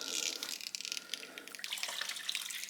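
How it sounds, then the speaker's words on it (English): Cold tap water runs steadily over freshly dyed yarn during rinsing, a continuous close splashing hiss into a sink with no talk. "So I'll rinse this with cold water so that it stops steaming."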